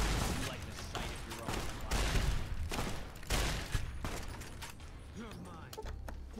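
Weapons fire in Fallout: New Vegas as a fairly quiet run of repeated shots and bursts. Irregular cracks come in clusters over a busy game-sound background.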